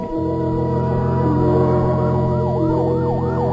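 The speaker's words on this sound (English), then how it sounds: "A fire engine, suddenly screaming through the night, draws her swiftly from her bed to the open window." A fire engine siren wails loudly through the night in a radio drama effect, its rising and falling swoops repeating over a steady engine drone, close and dominant with no voices.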